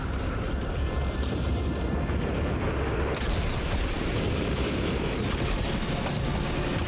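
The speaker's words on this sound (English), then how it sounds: "I like the distant sounds of explosions." Distant explosions and gunfire in the video game Death Stranding 2: On The Beach, a dense, steady rumble of far-off blasts and bursts with no talking.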